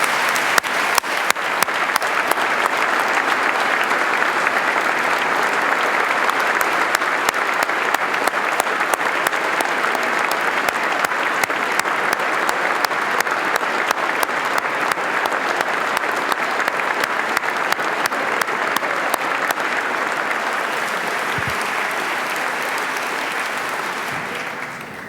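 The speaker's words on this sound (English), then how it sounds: "I think we all ought to give a round of applause to Governor Byrne" A large legislative audience at a New Jersey state budget address gives Governor Byrne a long, sustained round of applause, thick and even clapping that lasts for many seconds before tapering off at the end.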